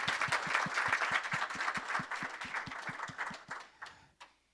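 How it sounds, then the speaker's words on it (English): Clapping from a small meeting audience at a county board session, a rhythmic run of distinct claps that gradually thins out and fades to a few final claps before silence. "So I wanted to, Michelle, stand up and applaud for her."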